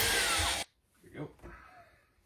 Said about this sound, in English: I'm just going to put this guy into the drill, and this will allow me to then drill down quite a bit farther for these lights